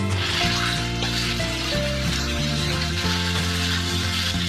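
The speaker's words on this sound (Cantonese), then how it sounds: "豬肉碎落去個鑊度炒，炒香佢，爆香佢。" Minced pork stir-fried over high heat in a wok for olive vegetable and minced meat fried rice, a steady close sizzle under a sustained, layered background hum.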